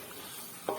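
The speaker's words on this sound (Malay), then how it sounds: "Kita masak ni sampai kita punya rempah ni pecah minyak, hilang bau" Curry spices fry in oil for a fish roe curry, a soft continuous sizzle with a brief louder stir or scrape near the end.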